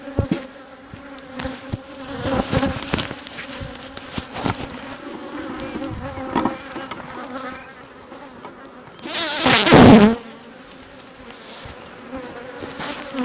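Honeybees buzzing around wax frames at a hive, a dense close hum of many wings with individual bees droning past, swelling into a loud near buzz briefly toward the end.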